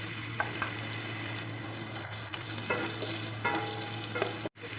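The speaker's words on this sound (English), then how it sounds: "So now we will add potatoes and carrots, saute them well" Potatoes and carrots sautéing in a hot pan, a steady dense sizzle with occasional stirring scrapes, close and continuous, cutting off abruptly near the end.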